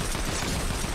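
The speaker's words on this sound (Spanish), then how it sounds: "Que se sigan oyendo ahí los plomazos." Gunfire in a multiplayer video game: dense, continuous rattling bursts of shots that fill the whole moment without pause, fairly loud, with no voices.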